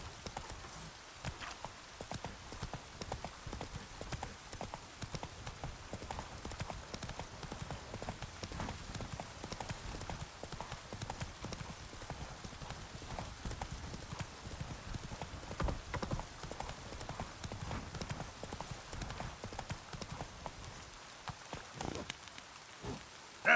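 Roach the horse gallops through a Witcher 3 swamp, rapid clip-clop hoofbeats running steadily under a wash of rain and ambient game sound, with an occasional whinny and faint talk.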